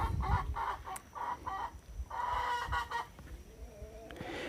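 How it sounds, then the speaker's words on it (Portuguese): Early-morning chickens cluck in repeated bursts and a rooster crows, fairly faint and mixed with background music playing at the same time. "As galinhas abrilhantando com a música de fundo, né?"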